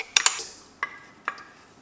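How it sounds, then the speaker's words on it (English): A fork beats a cornmeal and milk mixture in a bowl for Jamaican cornmeal porridge. A few close, sharp metallic clinks come in quick pairs and single taps, with no talking. "You just use a fork and beat it out."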